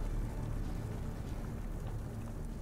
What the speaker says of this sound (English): All three of the engines are working.